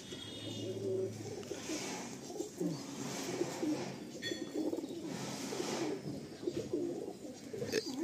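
Madrasi pigeons kept on a home rooftop coo continuously in low, throaty, overlapping calls, nearby and moderately quiet, with occasional fluttering and soft background noise.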